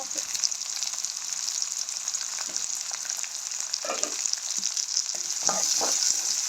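Onions and green chilies frying in oil for a dried-fish curry, a steady bright sizzle running throughout with a few soft clinks and stirring knocks, close and alone.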